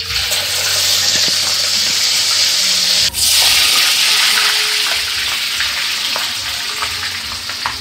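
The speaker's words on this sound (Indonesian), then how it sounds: "Goreng ya, bawang merahnya." Shallots for green chili sambal frying in a pan, a loud, dense, continuous sizzle with a sharp burst partway through as more goes in, then settling to a steady crackle.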